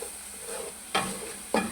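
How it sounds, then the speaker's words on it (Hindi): Masala with chopped tomatoes frying in a pan for chicken and egg kofta gravy, a steady low sizzle with two sharp scraping stirs of the spoon close by, no talking. "ये देखो मैंने मसाला बहुत अच्छे तरीके से भून लिया"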